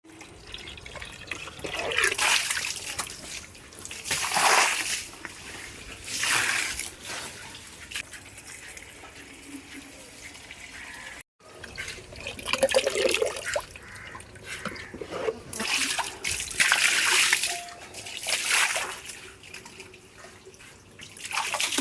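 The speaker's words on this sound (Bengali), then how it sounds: "তারপরে জল দিয়ে সামনের যে ধাপটা আমাদের আছে সেটা পরিষ্কার করে নিলাম।" Water splashed and poured over a front step to clean it, arriving in several broad, rushing bursts of moderate loudness with quieter gaps between them and no talking.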